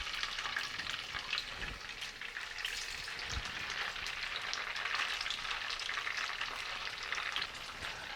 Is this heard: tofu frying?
yes